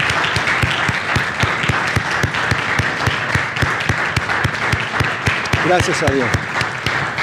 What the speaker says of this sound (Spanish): Démosle un aplauso grande